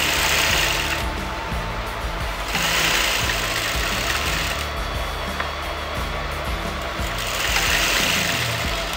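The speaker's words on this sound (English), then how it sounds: "So exactly at the corner I'm going to sew it." A sewing machine stitches fabric for a circle skirt lehenga, running with a continuous rapid mechanical whir that swells and eases in two or three bursts, close and loud with no talk.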